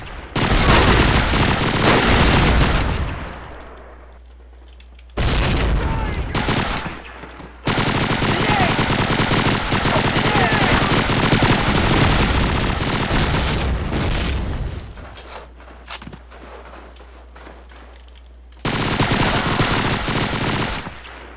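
Grenade blasts and gunfire in the online shooter Call of Duty Online: dense bursts of automatic fire and booming explosions come in loud waves, broken by brief quieter gaps, with a voice barely audible beneath.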